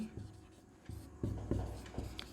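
Writing on a board during a Hindi literature class. Short, firm strokes and taps come in an uneven run, close by, with a low murmur of room sound underneath.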